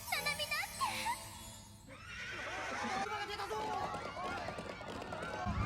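A runaway horse on a school campus in the anime Revolutionary Girl Utena whinnies sharply at first, then gallops past with rapid hoofbeats, while voices talk underneath.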